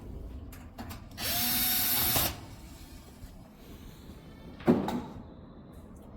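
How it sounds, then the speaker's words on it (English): Power driver backing screws out of the top of a Whirlpool stove, one loud steady whir lasting about a second, then clicks and a brief second burst, close up. "We're going to raise the top by taking these two screws off."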